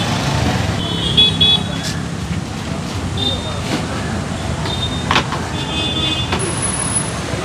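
Trucks and other vehicles pass along a busy roadside near a hospital in Mapusa, with a steady wash of traffic noise, brief high tones like horn toots, and a voice talking over it.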